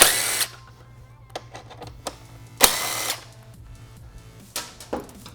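A power tool whirring in short bursts to remove 10mm-head fasteners on a 2017+ Honda Grom, several loud spins with pauses and small metallic clicks between, close up, with a low hum underneath.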